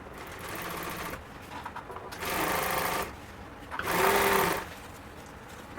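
A sewing machine stitches seat upholstery material for a 1951 Ford truck, dragging badly as it runs. It whirs loudly and close in two main bursts with quieter mechanical running between them.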